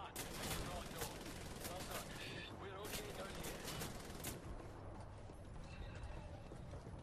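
Gunfire in the 2014 PC shooter Wolfenstein: The New Order comes as a burst of sharp shots and clattering impacts early on, then fades to quieter rumble and scattered noise, without clear voices.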